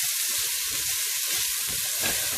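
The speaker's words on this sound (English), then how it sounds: "we're going to continue sauteing that for another 2 minutes" Leeks and onion sautéing in a pan for lobster bisque give a steady, close, even sizzle and crackle throughout, with a faint stir near the end and no talking.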